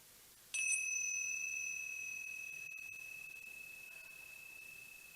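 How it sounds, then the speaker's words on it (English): A meditation bell is struck once and rings out as a clear, pure metallic tone that sustains and slowly fades over several seconds, heard alone in a quiet room. "I'm going to ring the bell again."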